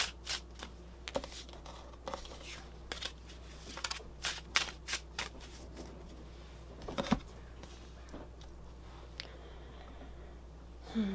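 Tarot cards being shuffled by hand, a run of crisp riffling and flicking bursts at close range, fairly quiet and with no talking.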